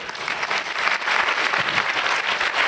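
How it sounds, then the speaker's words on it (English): Audience applause at a Buddhist teaching event in France, a dense steady patter of many hands clapping close by, sustained without pause. "you can applaud"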